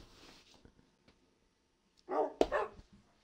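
Dog barking indoors, a quiet whimper or yip early on, then a short burst of two or three loud close barks about two seconds in.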